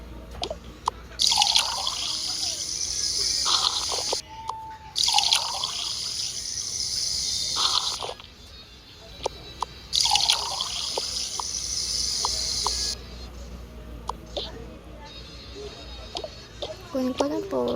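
Washing with running water: a tap runs in several longer streams separated by short pauses, with drips and splashes in between, close by while people talk over it.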